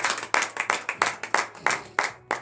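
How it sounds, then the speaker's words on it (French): A congregation at a morning prayer service claps steadily, close and loud, in quick uneven bursts with no talk over it. "Soyez de vive acclamation à l'Éternel."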